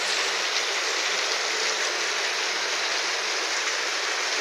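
Heavy, unbroken rain pours down steadily during a flood, a dense continuous hiss with no pauses and no voices.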